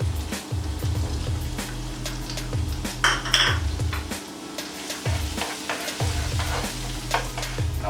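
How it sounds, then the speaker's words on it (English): Ginger and garlic fry in hot oil in a pan, a steady close sizzle punctuated by repeated rhythmic scraping and clinking of a utensil stirring against the metal, with no voices. "When the pan is heated, let's add some oil. Now we will add 1 teaspoon of ginger and garlic"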